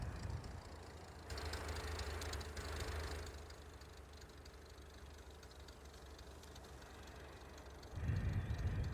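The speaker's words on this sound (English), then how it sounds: "this tractor can haul it, but it's a little tough on it" Tractor engine in Farming Simulator 19 laboring under load while hauling, a steady low droning rumble with a rougher, louder surge near the end, no talking.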